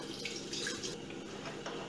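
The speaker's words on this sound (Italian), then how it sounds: "Vado a mettere metà dell'acqua tiepida" Lukewarm water is poured into a stand mixer bowl for bread dough, making a steady close splashing stream with no pauses.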